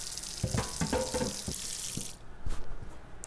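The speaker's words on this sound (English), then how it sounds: "I'm just draining off the hot water. Going to add some cold water to it." Cold water runs from a kitchen tap into a pot after the hot water is drained, a steady broadband rush for about two seconds that cuts off, followed by a few clunks of the pot.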